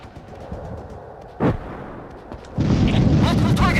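In the Ghost Recon video game, a frag grenade detonates with a short boom, followed by a second heavier blast that trails into a sustained rumble of debris and gunfire, loud and close.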